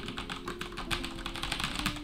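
Typing on an L80 mechanical keyboard with linear switches, a quick, even stream of soft, close keystroke clacks over a faint steady hum, with no talking.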